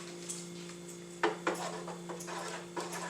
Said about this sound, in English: Give our sauce a nice little stir.